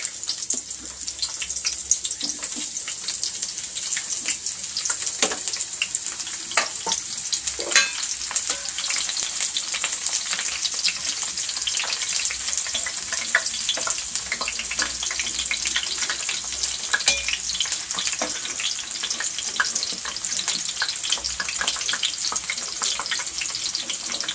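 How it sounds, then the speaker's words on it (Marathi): Cauliflower frying in a pan for veg biryani, a dense continuous crackling sizzle with frequent sharp pops, steady and close throughout with no voices. "आता याच्यामध्ये फ्लावर घालणार आहे, फ्लावर फ्राय करून घेणार आहे"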